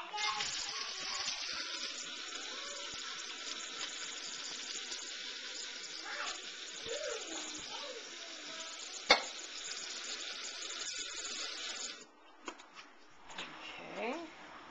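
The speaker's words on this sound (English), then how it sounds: "Drain the macaroni and cheese." Cooked macaroni drained, water pouring steadily from the pot in a broad rushing hiss that stops near the end, followed by a few clatters and faint voices of an adult and a child.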